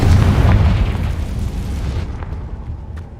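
Hogwarts Legacy's Confringo spell detonates as a loud, deep explosion, a rumbling boom whose roar fades gradually across about three seconds with no voices.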